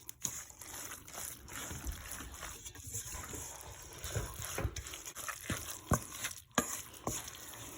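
A spoon stirs condensed milk and canned mushroom soup together for a rice and broccoli casserole, giving irregular soft scraping and wet sloshing with a few sharper clicks against the dish. No one speaks.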